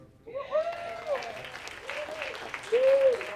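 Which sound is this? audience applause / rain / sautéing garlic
audience applause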